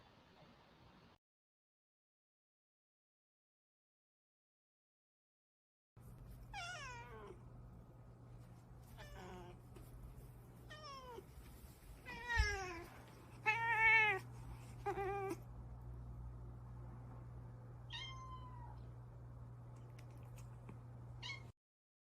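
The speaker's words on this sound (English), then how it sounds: "I'm going to drop another cat video and then close out the show." A cat in a sweater meows repeatedly in a played cat video, a series of clear, close meows at irregular intervals over a steady low hum, with no talking.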